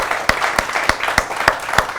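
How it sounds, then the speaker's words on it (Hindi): Applause from a television studio audience for a guest on a political debate show, heard as a short burst of evenly spaced, fairly sharp claps over a soft hiss. "एक बार जोरदार तालियां हो शरद जी के लिए।"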